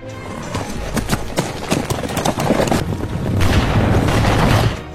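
Horse hooves clip-clop loudly and close as a horse-drawn carriage approaches in a Western gunfight scene, a busy rolling rhythm of hoofbeats with rumbling wheels beneath.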